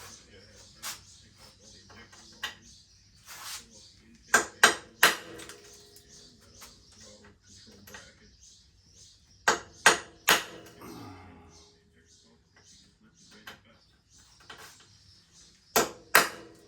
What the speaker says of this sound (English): I just got my little ball peen hammer here.